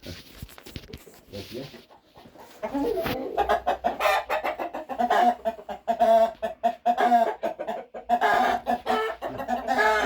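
A rooster clucks and calls over and over, loud and close, in a run of throaty, rising cries.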